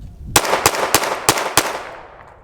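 Five quick, sharp pistol shots from a Springfield Hellcat RDP fired in steady succession, each loud crack close and evenly spaced, with a short ringing tail after the last.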